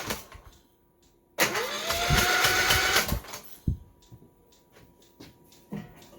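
A Kohler Courage 19hp engine on a Cub Cadet LTX1042 lawn tractor cranks over for about two seconds with a rising starter whine, then stops, followed by scattered clicks and knocks.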